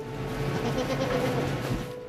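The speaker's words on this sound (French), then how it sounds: "Ces chèvres, ce sont celles de Jean-François" Goats on a farm bleat in a dense cluster, several animals calling over one another at close to middle distance, with steady barnyard noise underneath and no talk.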